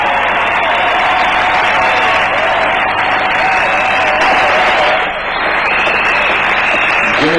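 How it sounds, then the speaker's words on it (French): A church audience cheers and applauds at a religious gathering, a dense, loud, continuous wash of clapping and shouting that holds steady, dipping only briefly before carrying on. "J'aimerais que vous puissiez soutenir ce message par des acclamations au nom de Jésus."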